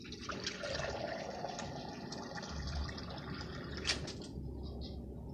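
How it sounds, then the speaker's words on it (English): Water pours steadily from a rain barrel spigot into a fairly large container, a continuous close gush that rises in the middle and ends with a brief splash. "I'm going to fill this container up, the same one I used on the other two tanks"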